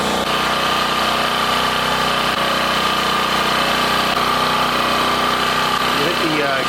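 A Champion 1200 watt portable generator runs steadily at close range, a loud continuous engine drone with an even hum throughout, with no pauses or changes.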